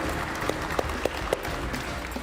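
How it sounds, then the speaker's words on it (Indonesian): A crowd applauds Ridwan Kamil with dense, continuous clapping, a few sharper individual claps standing out now and then. "Kita berikan tepuk tangan untuk Ridwan Kamil."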